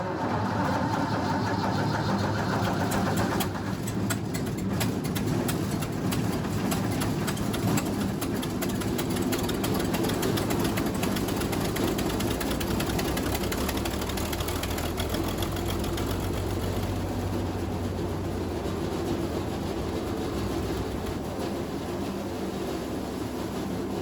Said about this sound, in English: Let's give it just a tiny bit of fuel just to get it kicked in gear.